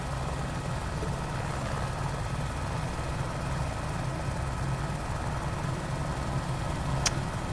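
An Airbus H125 helicopter's engine and rotor during takeoff make a steady, loud, close turbine roar and drone that holds constant throughout with no speech.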